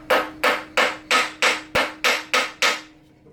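Eight sharp metallic hammer taps on a car alternator wire terminal land in a steady, even rhythm, close and clear, with nothing else in the background.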